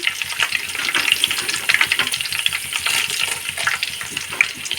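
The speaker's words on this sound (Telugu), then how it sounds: "ఇప్పుడు ఎండుమిర్చి వేసుకుందాం" Dried red chillies drop into hot oil, setting off a dense, continuous crackling sizzle with rapid popping spatters that hold steady throughout, close and fairly loud, with no voices.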